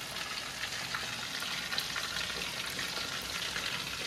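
Local fish curry simmering in a pan with lemon juice added, giving a steady soft bubbling sizzle, close and even throughout with no talking.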